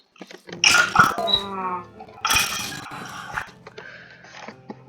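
A Minecraft dog whimpers and growls in short bursts with gaps between, sounding close and somewhat processed, like a game sound effect.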